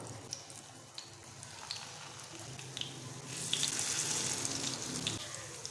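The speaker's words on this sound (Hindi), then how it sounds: "अब पैन में ऑयल गरम किया, इसमें डालते जाएंगे कबाब" Eggplant vegetable kebabs frying in hot oil in a pan, a steady crackling sizzle with scattered sharp pops that swells louder partway through, no voices.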